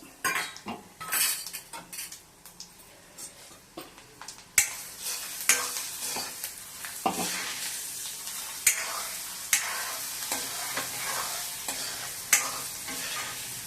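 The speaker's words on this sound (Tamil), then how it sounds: "நம்ம முதல்ல கடுகு சேர்த்துக்கலாம். அதுக்கப்புறமா இதுக்கு கடலைப்பருப்பு, உளுத்தம்பருப்பு வச்சுருக்கேன், இது போட்டுக்கலாம்." Mustard seeds, chana dal and urad dal are tempered in hot oil in a pan for an Andhra gongura chutney, with steady metal stirring and scraping, clinks of a spoon on the pan, and a faint sizzle throughout.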